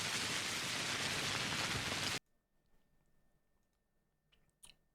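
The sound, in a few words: rain in the video game Pathologic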